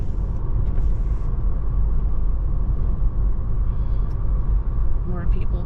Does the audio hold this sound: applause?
no